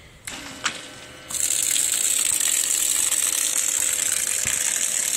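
An electric bilge pump switches on in an Esquif canoe holding water, starting after a couple of clicks and then running as a steady, loud hissing whir with rushing water, no talk.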